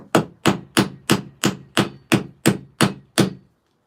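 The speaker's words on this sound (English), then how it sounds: "you're driving that nail nice and straight" A hammer drives a nail with ten evenly spaced, sharp strikes, each one loud and close with a short ring, then the sound stops.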